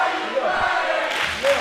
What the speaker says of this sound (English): The crowd very vocal tonight against Jackson Drake.